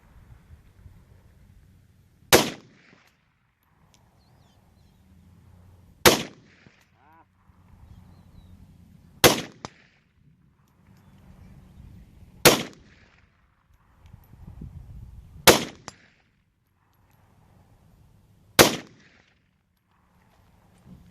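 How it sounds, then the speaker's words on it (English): Six sharp, loud rifle shots from a Century Arms RAS-47 fired outdoors with iron sights, spaced roughly three seconds apart, each a crisp crack over quiet background rustle. "take a few shots standing, a few shots kneeling"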